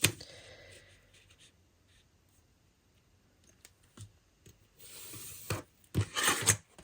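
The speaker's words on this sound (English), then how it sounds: "let's just draw in now that middle line" A pen or pencil draws a line along the middle of paper for a junk journal signature, faint scratchy strokes followed by louder rustling and handling of the paper, close with no voices.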